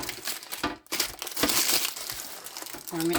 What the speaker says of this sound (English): I cut out a piece that's the good size for this, and then I crumble it up.